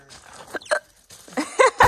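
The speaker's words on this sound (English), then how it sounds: "It's not. It's hiccups." Hiccups from a person during construction work on a self-built ICF home, several short abrupt vocal jolts spread across the clip, close and fairly loud, with no talk.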